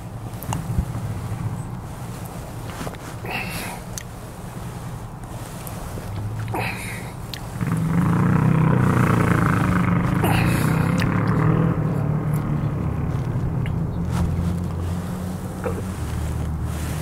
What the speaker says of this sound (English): Don't know why somebody's revving up their motorcycle.